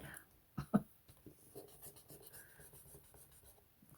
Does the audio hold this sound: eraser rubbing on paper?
yes